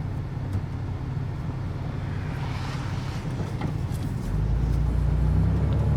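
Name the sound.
33-year-old Toyota 4Runner truck driving on road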